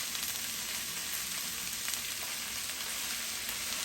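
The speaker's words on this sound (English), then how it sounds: "There we go, we got it nice and hot. Already sizzling." Cabbage fries in a hot pan with a steady, close hiss and crackle of sizzling oil, even and unbroken throughout, with no one speaking.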